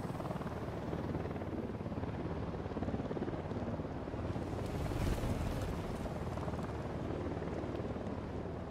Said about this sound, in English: Is that my chopper?